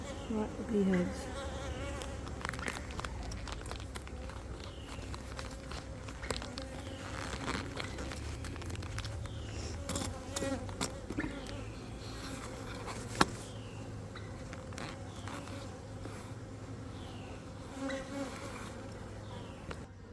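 Bees buzz steadily and densely around a mass of bee heads, a continuous close insect drone lasting throughout with no talk over it.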